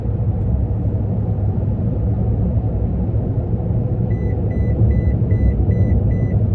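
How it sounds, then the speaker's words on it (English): A Toyota Tundra's lane departure warning sounds six evenly spaced electronic beeps partway through, clear over the steady low rumble of the truck driving. "Now, I am going to turn on the lane departure warning, and we'll see if that functions."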